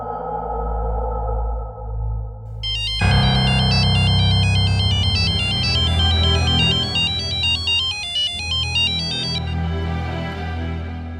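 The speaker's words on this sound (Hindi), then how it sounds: "तुम्हारा फोन है?" A mobile phone ringtone plays a bright, repeating electronic melody loudly and close, starting after a few seconds of low background sound and running continuously to the end.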